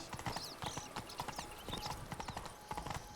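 Roach, the horse from The Witcher 3, walking at a steady pace, hooves clip-clopping in an even rhythm, close and clear over a faint background.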